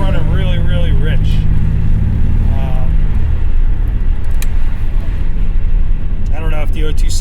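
A 1987 Buick Grand National with a replaced single turbo idles rich in traffic, a loud, steady low engine rumble with a brief rev, heard close from inside the car while someone talks over it.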